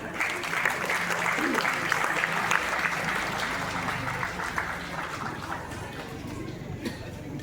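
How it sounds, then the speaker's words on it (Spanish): Sustained applause from a crowd at an outdoor International Day of Indigenous Peoples event in Xoloco, Axtla de Terrazas, San Luis Potosí, with steady dense clapping that holds throughout. "Fuertes los aplausos."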